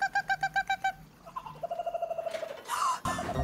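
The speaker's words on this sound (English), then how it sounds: "There's a kookaburra in distress" A cartoon kookaburra in distress gives a rapid series of repeated hooting calls, followed by a busier stretch of squeaks and chirps with music-like tones in a children's animated bushland scene.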